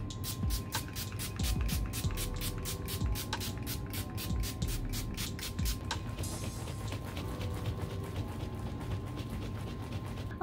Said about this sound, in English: So I'm using my Ciate London Everyday Vacay Spray